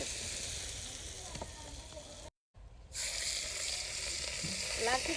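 Food cooks on a wood-stick stove with a dense, steady hiss of sizzling close by that cuts out abruptly for a moment, then returns at full strength.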